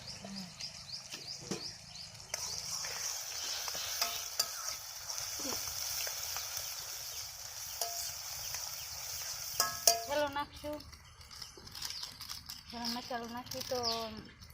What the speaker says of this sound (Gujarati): ગરમ મસાલો નાખી દીધો છે અને હવે બધું મિક્સિંગ કરે છે